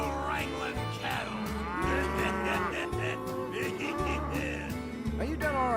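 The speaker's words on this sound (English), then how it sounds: "Yosemite, we're trying to settle these cattle, not stampede them." Cattle moo repeatedly in long, drawn-out calls, several animals overlapping nearby, over a steady low rumble with faint voices underneath.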